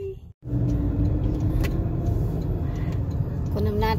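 A car drives past on the way to a market, its engine and tyre noise forming a loud, steady rumble with a short dip near the start and a faint voice under it.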